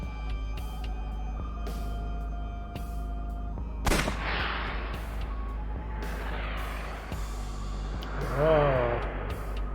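Gunfire from a shot fired at a creature in AI: The Somnium Files, an abrupt loud crack near the middle followed by ringing game effects, with game music running throughout and speech present.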